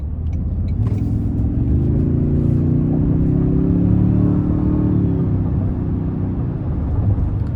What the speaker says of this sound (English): the exhaust mixed with what's coming through the speakers just sounds super aggressive